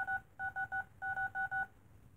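Telephone keypad dialing tones: nine short, crisp beeps in three clustered groups, loud and close with brief pauses between groups and faint room hum underneath.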